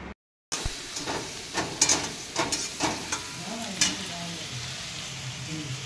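Egg curry (dim kosha) sizzles steadily in a pan as a utensil scrapes and stirs through it in several bursts, close and clear, following a brief silent gap at the start.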